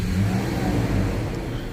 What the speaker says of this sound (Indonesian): Garang banget ya, mesin 4000 cc V6 nya